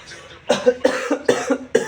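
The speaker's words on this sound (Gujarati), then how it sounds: "ઉધરસ એવી થઈ ગઈ" A person coughs in a quick run of four or five harsh, close bursts, each hacking cough following the last at a steady rhythm.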